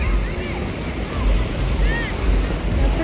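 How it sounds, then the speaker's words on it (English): Calm ocean waves wash steadily at Rosarito Beach, with a continuous broad surf rush and wind buffeting the microphone, while people's voices come and go faintly. "That's pretty calm for waves"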